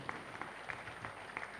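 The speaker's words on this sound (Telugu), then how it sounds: "వాళ్ళందరూ గట్టిగా చప్పట్లు కొడదాం." An audience at a large gathering claps together, with dense, fairly faint applause that holds steady and shows a few sharper peaks, and no voices rise above it.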